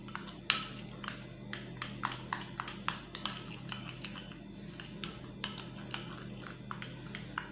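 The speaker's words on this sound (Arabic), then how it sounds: "وهنقلب المكونات كلها مع بعضيها لحد ما تتجانس" A spoon stirring ground rice flour and starch in a bowl for a face mask, light repeated clinks and taps of metal against the dish in an uneven rhythm, close and quiet.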